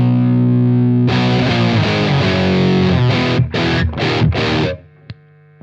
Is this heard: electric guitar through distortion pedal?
yes